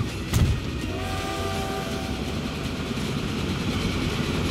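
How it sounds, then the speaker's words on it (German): A train in the Transport Fever video game rushes past, a loud sustained rumble with a brief horn-like tonal whistle near the start, with no talking. "Ich höre schon wieder irgendwo einen Zug hier anrauschen."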